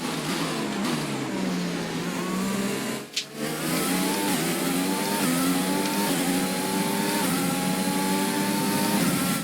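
An F1 race car engine in the F1 2020 video game screams at high revs, rising and falling steadily through gear changes with one brief dip. The sound is loud and continuous, with no talking.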